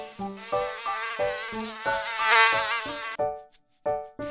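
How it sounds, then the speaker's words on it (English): A cartoon mosquito's buzzing whine rises and falls in short rhythmic pulses over a bright, tuneful backing, loud and close, ending in a few sparse bursts. "Mosquito sound."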